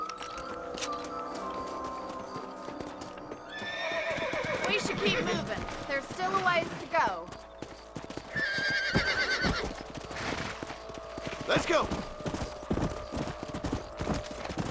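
Horse hooves clip-clop in a steady trotting rhythm in Red Dead Redemption Remastered while horses whinny and snort, and someone speaks briefly over the movement.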